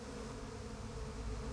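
Bees in the video game Psychonauts 2 buzz in a steady, faint, continuous drone with no talking over it.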